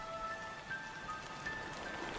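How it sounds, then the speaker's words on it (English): Monsoon rain falls on the Christmas Island forest, a steady dense hiss of drops with faint high tonal calls threaded through it. "As the rain reaches the forest floor, it triggers a flurry of activity among the red crabs."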